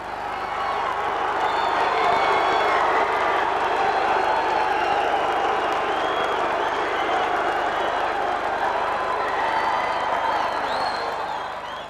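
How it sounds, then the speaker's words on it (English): A large crowd roars and cheers continuously at the 1989 Sabaki Challenge Enshin karate world championship in Denver as the heavyweights enter, a dense, loud wall of voices and clapping that holds steady throughout. "The roar of the crowd as the heavyweights come in for the championship of the Sabaki Challenge"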